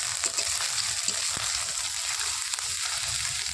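Masala spices frying in oil in a pan with fried potatoes, giving a steady, close sizzle with faint scattered crackles and stirring scrapes.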